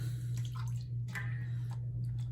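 Water added to a prototype shave cream, heard as a few soft drips and small splashes over a steady low hum, close and fairly quiet, with no talking.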